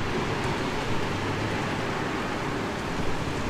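Steady, dense rain driven sideways by wind, roaring without pause, a broad hiss filling the space, heavy and constant, with gutters overflowing.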